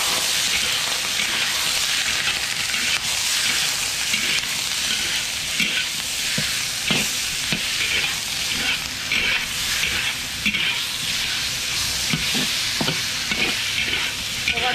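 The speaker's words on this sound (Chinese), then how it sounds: "现在开始炒鸡肉，把姜炒香了，把鸡肉倒里面一起炒" Chicken stir-fried with old ginger in a wok: a loud, continuous sizzle and hiss throughout, broken by repeated scraping clatters of the spatula, close up with no talking.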